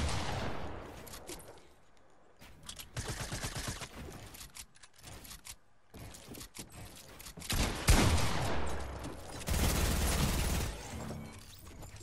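Video game gunfire in a one-on-one match, bursts of rapid shots and sustained volleys coming in clusters with short gaps between them, loud and close, some of them crisp single cracks and others dense rattling fusillades.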